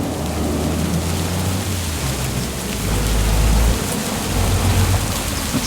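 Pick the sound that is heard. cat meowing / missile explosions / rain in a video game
rain in a video game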